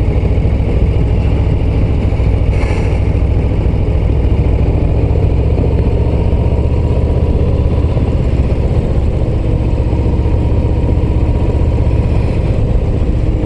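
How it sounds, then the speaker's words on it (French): A Harley-Davidson Low Rider ST motorcycle engine drones steadily and loudly for the whole stretch on small country roads, a constant low rumble mixed with wind rush, with no talking. "je trouve le moteur un peu plus souple"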